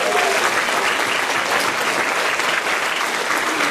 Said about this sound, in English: Can we give a round of applause for everybody's working?